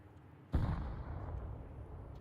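A grenade explodes in Counter-Strike 2 with one sudden, heavy blast. A rumbling decay follows and fades over the next two seconds.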